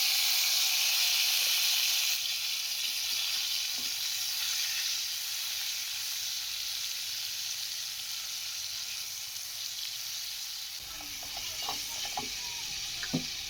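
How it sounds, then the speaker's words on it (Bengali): Ginger, green chili and garlic paste sizzling in hot oil, a loud steady hissing fry that eases slightly over time, with faint stirring clicks and taps toward the end; close and without talk. "এখন আমি এর মধ্যে আদা, কাঁচা লঙ্কা ও রসুনের যে পেস্ট ছিল এটা দিয়ে দিলাম।"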